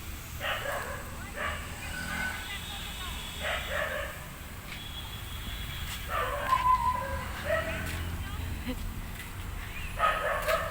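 A dog barks in repeated short bursts outdoors in front of a house by a main road in the evening, moderately distant, with people talking over it.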